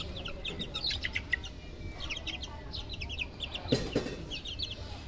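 One-month-old Gilmore hatch gamefowl chicks peep and chirp in repeated high, quick bursts, a busy flock heard close over a low background rumble, with one louder sharp knock partway through.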